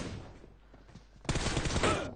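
Shotgun fire in a team deathmatch video game: a loud, dense burst of blasts lasting under a second, following a stretch of quieter game noise.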